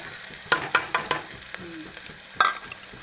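Cumin and onion hit hot oil as a tadka for dal, crackling and popping in a short run of sharp sizzling bursts, then a brief lull and one more burst.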